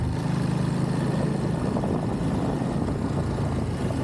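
Ducati Monster motorcycle riding through curves, with a loud, steady engine roar and wind buffeting close to the rider throughout the short stretch.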